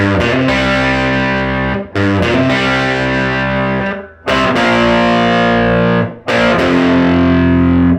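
Heavily distorted electric guitar power chords from a song ring out loud and sustained, struck in four bursts with brief gaps between them.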